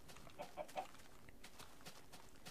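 A chicken in the video game Minecraft gives a few soft, quick clucks in a short cluster, faint and mid-distance over a quiet background, with no voices.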